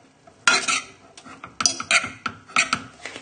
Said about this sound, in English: all we need to do is just fluff it up lightly with a fork